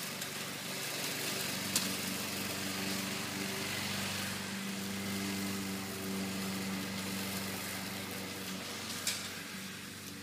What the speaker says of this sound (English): See, he's mowing the lawn.